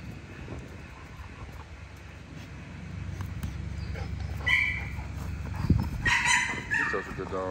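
A dog barks and whimpers at moderate distance, in scattered yips and whines over a low rumbling background, with a person talking nearby.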